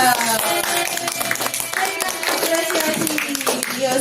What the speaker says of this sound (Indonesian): Ini tepuk tangan buat teman-teman yang mau ke depan.